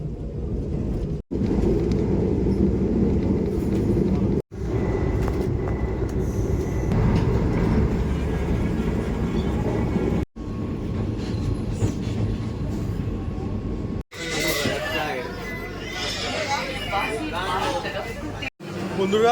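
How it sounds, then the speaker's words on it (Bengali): Vande Bharat Express on the Howrah to NJP route, heard from inside the coach as a steady loud rumble of wheels and rolling, with people talking over it and a brief squeal of wheels near the end. "আমাদের ট্রেন হাওড়া স্টেশন থেকে একশো পঁয়তাল্লিশ কিলোমিটারের ট্রেন জার্নি সম্পন্ন করে এখন এসে পৌঁছে গেছে বোলপুর শান্তিনিকেতন স্টেশনে"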